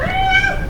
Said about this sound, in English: Oh yes, kitties.